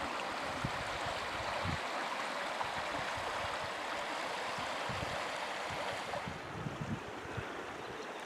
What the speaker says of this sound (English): Here we see the River Lliw, or the Avon Lliw as it's properly named, running between the upper and lower reservoirs